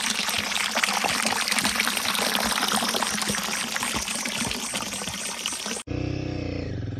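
Water from a village water supply in Mezoma, Nagaland, pours and splashes steadily and loudly, close by, then cuts off abruptly near the end.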